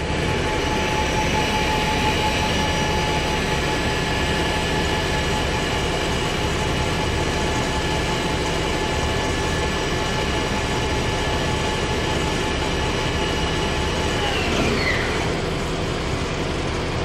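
A Kitamura Mycenter HX1000i machining center spindle spins at high RPM, a loud steady whine with sustained tonal lines that shifts pitch near the end, all under constant broadband machine noise with no talk.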